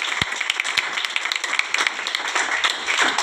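A church congregation claps in steady, overlapping rounds, producing dense, close, fairly loud clapping throughout.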